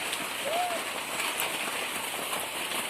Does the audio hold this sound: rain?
yes